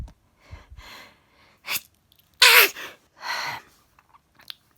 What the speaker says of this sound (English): just before bed, I would start sneezing again